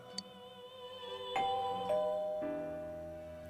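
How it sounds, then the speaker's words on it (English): A two-tone electronic doorbell chime sounds in the video game Persona 4 Golden, with sustained ringing tones over a quiet synthetic background, fairly clear and close. "You hear the doorbell ringing."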